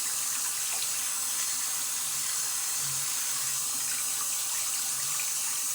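Running water splashes steadily from a tap, a continuous bright hiss with faint irregular splashing as a wet hand rinses a face in the stream.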